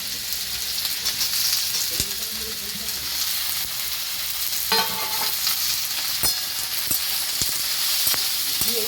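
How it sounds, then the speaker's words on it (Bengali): Mixed vegetables with beans and ridge gourd frying together in a pan, a loud continuous hiss of sizzling oil with occasional spatula knocks and scrapes, close and dense. "সবজিগুলো সব একসঙ্গে ভালো করে ভেজে নিই"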